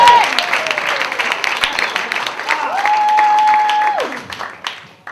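A comedy club audience applauds a comic coming to the stage, a steady wash of clapping and some cheers, with a voice speaking over it before the applause fades out.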